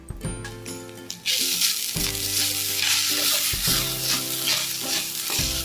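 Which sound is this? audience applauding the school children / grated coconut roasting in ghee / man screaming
grated coconut roasting in ghee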